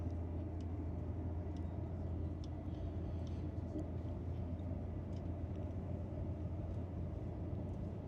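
A German high-speed train accelerating on the Cologne–Frankfurt line, heard from inside as a steady low rumble and drone with faint rattles, continuous and without talking.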